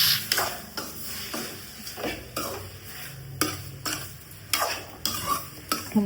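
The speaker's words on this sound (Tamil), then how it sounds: "கிளறி விட்டுடலாம்." Chicken sizzles in a hot pan while a utensil scrapes and stirs in repeated strokes, each stroke a sharp scrape over the constant frying hiss.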